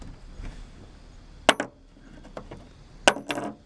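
A 1951 pure silver quarter dropped onto a hard surface, two bright metallic clinks each followed by brief ringing bounces, fairly close against quiet background.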